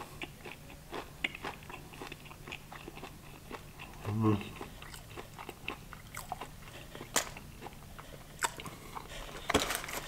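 Popeyes Cajun crispy shrimp bitten and chewed close to the mic, with scattered crunchy bites and a louder crunch burst midway over a quiet background.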